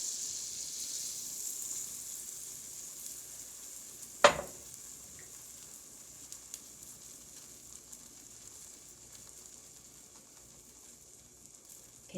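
Quiet, steady sizzling of pancake batter in a buttered frying pan, broken once by a sharp knock partway through, with faint scrapes afterward.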